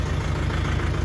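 A small UHI compact tractor on an off-grid property sits idling, its engine loud and close with a steady low rumble and a rapid even thump. No one speaks over it.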